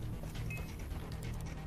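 A dog pants in the video game Far Cry 3, quick, soft breaths with a faint whimper, heard at low level against game background noise.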